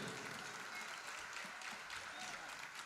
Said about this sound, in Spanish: Así que fuertes los aplausos para este señor